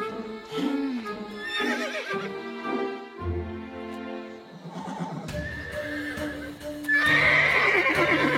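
A cartoon horse whinnies loudly and clip-clops along, with shrill neighs up close and hoofbeats under them, ending in a bright, busy burst.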